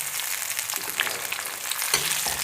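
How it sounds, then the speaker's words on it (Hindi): Onions and tomatoes sauté in a pan for a chicken white karahi, giving a steady close sizzle and crackle with a few sharper spatters and stirring scrapes, no voices. "अब हल्का सा इन दोनों चीज़ों को सौते कर लेते हैं"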